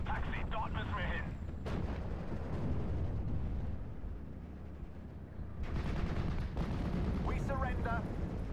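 Artillery fire in the WWII game Steel Division: Normandy 44, with deep booms and rumbling blasts rolling under bursts of shouted voices in German.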